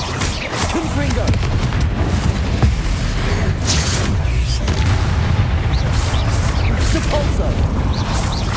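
Confringo fire-spell explosions in Hogwarts Legacy, a dense run of loud, rumbling booms and crashing blasts packed closely for several seconds, with a voice calling out under the din.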